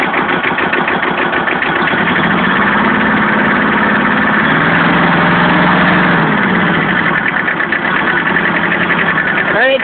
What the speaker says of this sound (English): 2-stroke, 2-cylinder diesel.